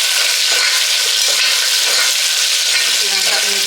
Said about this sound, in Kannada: ಅದು ಚೆನ್ನಾಗಿ ಫ್ರೈ ಆಗಿ ಈಗ ನಾನು ಪುದೀನ ಸೊಪ್ಪು ಹಾಕ್ತಾಯಿದ್ದೀನಿ